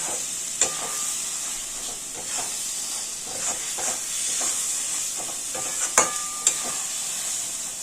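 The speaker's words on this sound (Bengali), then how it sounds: "এবার ভালোভাবে নাড়তে হবে।" Carrot halwa with raisins is stirred in a hot pan, producing a steady hissing sizzle broken by a few sharp metallic scrapes and taps of the spoon, with no voices.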